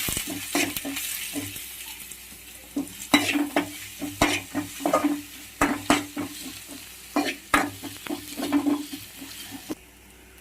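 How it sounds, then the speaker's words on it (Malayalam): Dried red chillies frying in a pan under a soft sizzle, with repeated clattering scrapes and knocks of a spoon stirring them at an uneven rhythm, close and fairly loud. "വറ്റൽമുളക് ഇട്ടിട്ടാ നമ്മളത് ഇളക്കി യോജിപ്പിക്കും കേട്ടോ."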